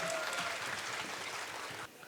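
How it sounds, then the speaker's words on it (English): Audience applause for dancers who performed with kukri knives at an India–Nepal film award ceremony, a dense steady clapping that holds for about two seconds before dropping away. "A huge round of applause to the dancers who performed so well with the kukuri"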